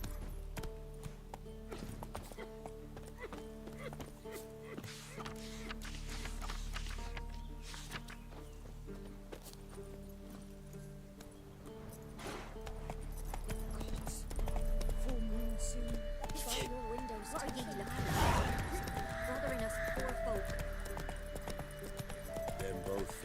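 Roach, a horse in The Witcher 3 video game, clip-clops at a steady gait close by, with occasional snorts and spoken lines over a droning musical score.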